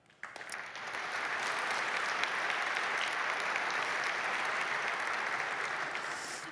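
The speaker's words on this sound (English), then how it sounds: "I just wanted 2 rounds of applause." A conference audience breaks into steady applause after a technical presentation, starting abruptly and holding at moderate, distant-sounding level for about six seconds.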